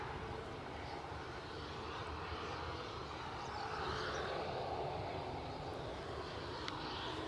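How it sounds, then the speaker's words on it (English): Boeing 767-300ER airliner flying over Edinburgh, a steady distant jet roar that swells slightly midway, with no speech. "The mighty Boeing 767-300 extended range."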